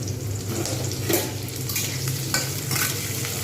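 Potatoes and onions fry together in a pan, giving a loud, continuous close sizzle with occasional stirring scrapes and no talking.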